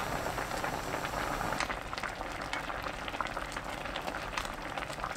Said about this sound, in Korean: 뚜껑은 열어둔 상태로 5분 끓입니다.